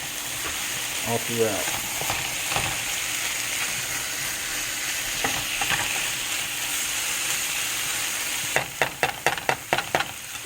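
Mushrooms sauté in a pan with a constant soft sizzle, broken by occasional clicks and scrapes and a quick burst of sharp taps near the end, close, with no talk.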